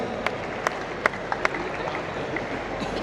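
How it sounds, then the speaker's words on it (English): A crowd applauds at a college annual fest, with a continuous wash of clapping and a few sharper, closer individual claps standing out near the start and middle. "Can we have a huge round of applause for them, please?"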